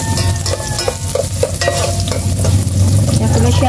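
Garlic fries in a pan with a loud, close, continuous sizzle and crackle, with brief stirring clatter over a low hum and no voices.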